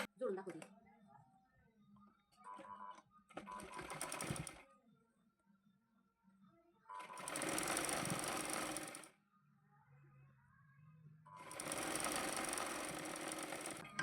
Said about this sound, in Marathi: तर हे जोडलेल्या ह्याच्यावरूनच शिलाई मारून घ्यायची.